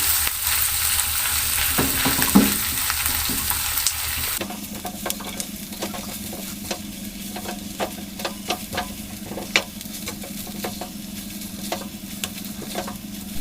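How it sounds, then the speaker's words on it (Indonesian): Corned beef sautéed with onions and garlic for homemade spaghetti sauce, a steady sizzle with repeated sharp scrapes and taps of a spatula stirring the pan, close and alone without talk. "Lalu tumis lagi, diaduk-aduk sampai tercampur rata."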